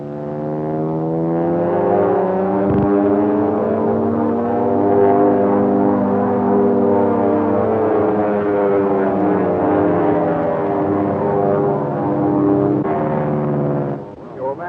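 A propeller airplane on a test flight drones steadily and loudly throughout, its engine hum holding even with slight swells before tapering off at the very end; 1930s film soundtrack.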